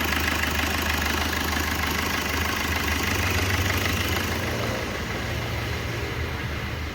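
A Maruti Brezza engine idles steadily just after starting, with a rocker arm noise fault and the air filter open. Its even, mid-pitched hum carries a faint ticking texture and stays constant without talk.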